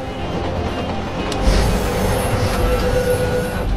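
A runaway 30-ton tram rolls downhill on its rails, giving a loud, steady rumble with a faint metallic squeal and no voices.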